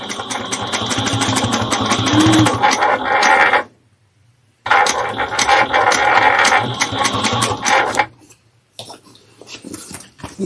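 A sewing machine stitches through a quilted barrel bag in two long, steady mechanical runs with a short pause between them, then a few brief bursts, loud and close with no talking.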